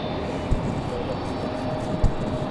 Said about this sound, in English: we got to push back up close, an A319, or an A320, excuse me, for Delta Airlines